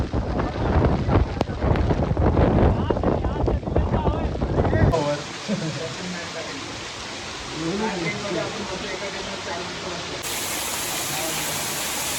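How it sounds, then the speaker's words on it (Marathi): Heavy monsoon rain and strong wind on a Harishchandragad mountain trek near Kokankada, with loud gusts buffeting the microphone for the first few seconds, then a steadier wash of rain and wind noise. "तर इथे आता पाऊस खूप जास्त वाढला आहे"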